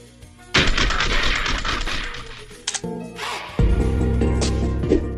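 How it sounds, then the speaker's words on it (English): Rapid weapon fire in Call of Duty Mobile while aiming down sights, loud clustered shots in two bursts with a brief lull between, no talking. "your weapon will shoot even while you're aiming"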